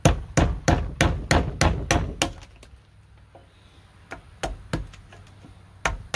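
A hammer drives a chisel into a hickory ridge beam with a rapid series of sharp, close strikes, then a quieter pause before a few slower, spaced blows.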